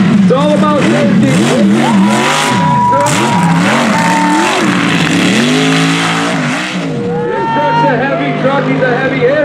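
A loud mud truck engine revs hard and repeatedly at a mud ranch event, pitch climbing and falling in surges, with a brief lull before roaring again.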